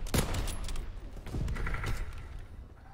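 Gunfire in a WW2 video game, with a flaming shotgun blasting: several sharp, loud shots come in a quick burst early, then more reports follow against a busy, continuous game din.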